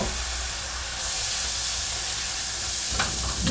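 Steady sizzle from a beef stew pot as mirin hits the hot base for deglazing, a broad hiss that swells at about one second and again near three seconds, close and continuous.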